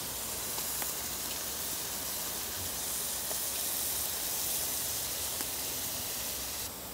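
Onion dropped into hot fat for Chechen donda plov, a loud, steady broadband sizzle and hiss that holds evenly for several seconds up close, with faint ticks in the wash and no voices.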